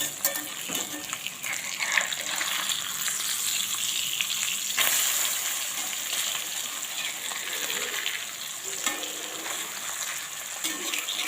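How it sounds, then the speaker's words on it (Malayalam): Manthal fish frying in a pan at home, a loud, steady crackling sizzle of hot oil with occasional spatter bursts and faint stirring, close and continuous. "മാന്തളിന് അധികം വേവില്ലാത്തത് കൊണ്ട് കുറച്ച് സമയം മതി ഫ്രൈ ചെയ്യാം"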